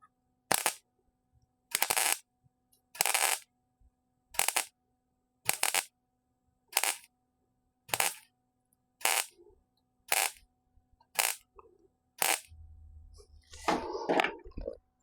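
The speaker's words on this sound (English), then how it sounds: "so I'm just tack welding it." Tack welds being laid on a car floor pan during repairs on a 1961 Rambler: about a dozen short, crackling bursts at an even pace of roughly one per second, up close, followed by a rougher, longer clatter at the end.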